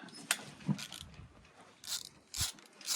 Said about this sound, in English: You just use the ratchet here.